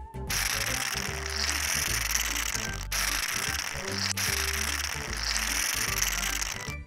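A toy ice cream machine filled with yellow play clay is cranked, giving a steady plastic ratcheting and clicking mechanism that runs continuously for several seconds, fairly close and moderately loud, with no talk.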